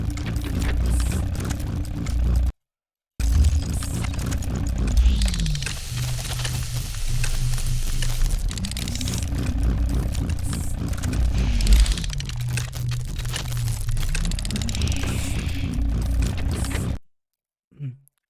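A boss robot in its weak state from the game The Explorer: 3D Game Kit gives off a loud, continuous mechanical drone with wavering low tones that slowly rise and fall, cut by one brief gap before fading out.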